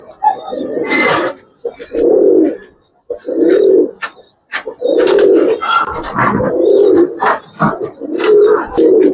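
Pigeons at a pigeon farm coo loudly and close in repeated throaty bursts, with sharper chirps and brief clatter between them and no clear talk.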